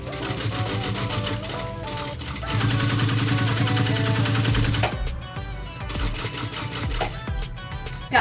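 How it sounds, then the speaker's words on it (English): A sewing machine bastes layers of a cross-body bag in place, giving a rapid, steady stitching rattle that mixes with background music, with no talking. "I'm going to do that so that way my foot is nice and even. And baste that in place."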